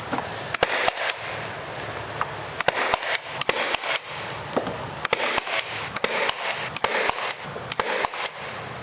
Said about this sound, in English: we'll come in again with like an 18 gauge and shoot into our blocking that's up there